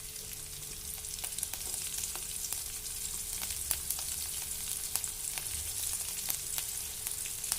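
Cumin seeds and chilies frying in a couple of spoonfuls of oil in a home kitchen, a steady close sizzle with fine crackling pops throughout, no voices.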